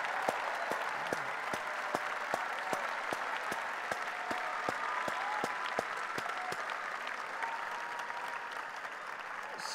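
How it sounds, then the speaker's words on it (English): Students at a robotics district competition's opening ceremonies applaud and cheer for their mentors and coaches, a steady wash of clapping from a large indoor crowd, moderately distant, with sharp individual claps standing out throughout. "can I have you all cheer and scream and yell and clap for your mentors and"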